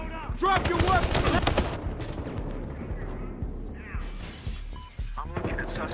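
Gunfire during a Battlefield Hardline match, a rapid burst of loud shots at the start that gives way to scattered cracks and impacts, with voices and game sounds mixed in.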